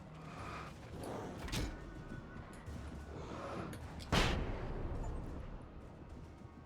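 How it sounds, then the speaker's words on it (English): A flashbang grenade goes off in a first-person video game: a sharp blast near 1.5 seconds, then a louder, harsher burst around 4 seconds that rings out over steady in-game background noise. "Kill 4 taken with a single flashbang."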